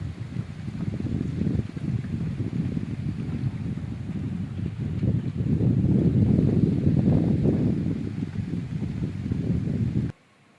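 Wind blows outside a house during light rain, a continuous blustery rush that swells in the middle and stops abruptly at the end, with no talking.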